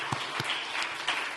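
A church congregation at a special New Year evening prayer meeting claps in a short burst of applause, close and fairly loud, with a few heavier thumps.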